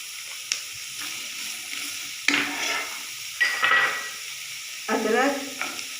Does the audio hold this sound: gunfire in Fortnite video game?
no